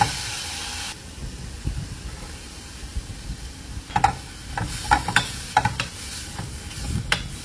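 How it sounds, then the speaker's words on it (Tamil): Beef patty filling with salt is stirred in a hot pan, a soft sizzle under irregular scraping and clacking strokes of the spoon that grow busier toward the end. "அதோட உப்பு கொஞ்சம் போட்டு நல்லா புரட்டி விட்டுக்கிறோம்"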